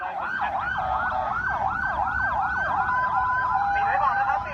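Ambulance sirens wail continuously on the Bangkok airport runway after a plane's emergency landing, several overlapping sweeping tones loud and close over a rumbling vehicle and engine background.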